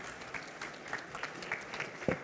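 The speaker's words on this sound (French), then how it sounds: "Merci de vos applaudissements" Audience applause closing a talk at a hospitality trade show, steady, fairly faint clapping from a crowd heard from a distance, continuing evenly throughout.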